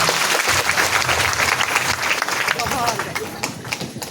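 An audience at a program in Sambalpur, Odisha breaks into loud, dense applause that stays strong and then thins slightly toward the end, with voices mixed in over the clapping.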